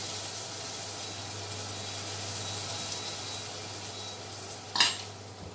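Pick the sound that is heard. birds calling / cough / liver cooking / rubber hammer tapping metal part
liver cooking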